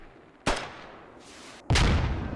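Two sharp, loud gunshot blasts ring out in the Squad video game, each with a booming onset and a lingering rumbling tail, with a faint whoosh between them.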